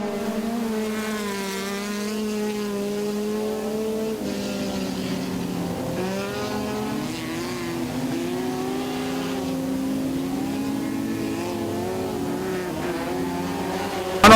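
Midget race cars at Tygerberg Raceway snarl past with several engines revving at once, their pitches rising and falling as they accelerate and brake through the corners. The engines sound moderately distant and drone on steadily the whole time.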